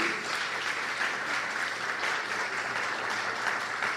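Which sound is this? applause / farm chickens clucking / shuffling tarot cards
applause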